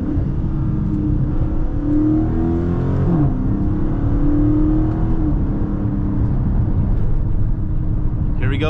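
A Dodge Challenger's engine drones and revs steadily while driving on a dark, potholed road, the pitch climbing and falling without a shift, loud and continuous beneath a talking voice.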